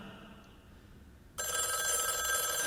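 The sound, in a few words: telephone ringing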